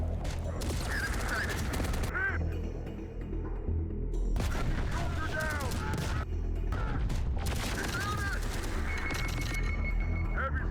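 Gunfire in the video game Terminator: Dark Fate Defiance: loud, busy volleys of shots and booms arrive in several long clusters, with short quieter gaps between them.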